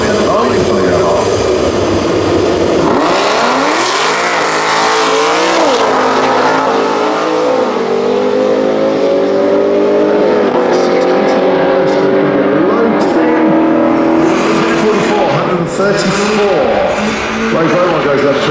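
A Ford Mustang drag races at a multi-track drag event in the UK, its engine roaring loud and rising through the gears as it launches and pulls away, while a commentator talks over the noise throughout.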